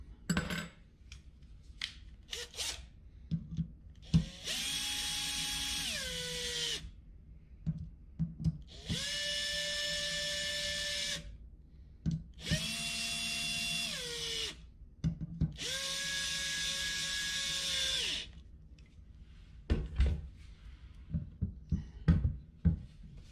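A power drill tightens screws in four sustained whirring runs of a couple of seconds each, the pitch dropping as each screw seats, separated by clicks and handling knocks, close and with nobody talking.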